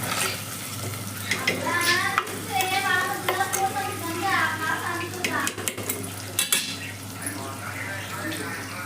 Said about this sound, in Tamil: வெங்காயம் நல்லா பொன்னிறமாக வதங்கட்டும்.